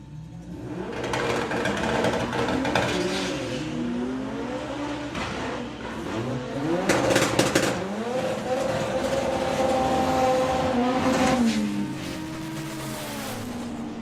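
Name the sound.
Bad Habit S3 drag racing car at Bug Jam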